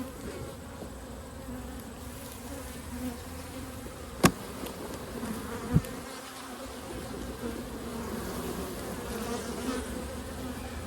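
Honey bees swarm over the frames of an open hive during a fall inspection, giving a steady, close, even buzzing hum with a couple of sharp clicks partway through.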